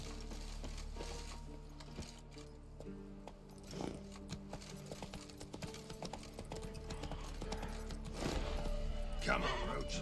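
Hooves of the horse Roach clip-clopping along in a video game, a steady faint rhythm of footfalls running under background game sounds and occasional voice.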